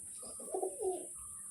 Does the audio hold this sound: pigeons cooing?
yes